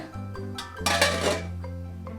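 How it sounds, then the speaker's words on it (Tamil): A lid set down over a bowl of pumpkin chapati dough, giving one soft clattering knock of metal or ceramic, with a short clink before it and faint rattles after, close by in a quiet kitchen. "இப்போ மூடி போட்டு வச்சுக்கலாங்க"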